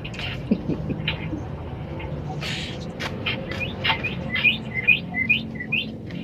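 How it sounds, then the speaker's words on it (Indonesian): Small birds kept in a home bird collection chirp in short, bright, repeated tweets, growing busier toward the end over a low background hum. "Koleksi burung."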